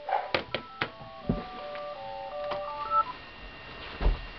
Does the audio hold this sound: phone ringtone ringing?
yes